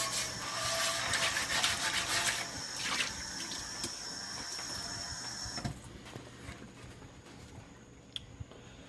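A Lodge cast iron skillet is scrubbed under a running tap, with rubbing strokes over a steady rush of water, fairly close, easing off toward the end into quieter water and a few small knocks.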